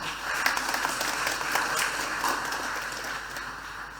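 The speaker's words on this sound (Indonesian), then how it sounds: "mohon diberikan aplaus tepuk tangan" Applause for a parish group during a wedding Mass in a church, a dense steady clapping from a congregation lasting throughout at moderate loudness.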